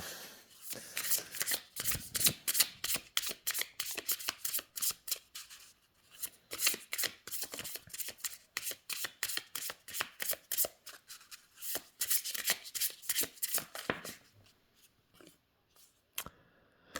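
Oracle cards from a Pocket Oracle deck, matte and slick, shuffled in quick dense riffling bursts with brief pauses, close and fairly loud, no talking.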